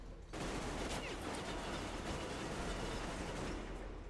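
Dense, continuous automatic gunfire rattles loudly and steadily through the whole stretch in Metro Exodus, a sustained volley of rapid shots with no pause and no talking over it.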